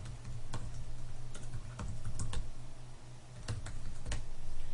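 Steady typing on a small Apple keyboard during setup of a new Mac Pro, a continuous patter of close key clicks with a few sharper strikes and a low hum underneath.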